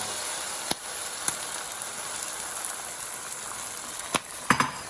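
Food frying in a pan gives a steady, moderate sizzle that runs throughout, with a few sharp pops and crackles breaking through near the end, and no talking.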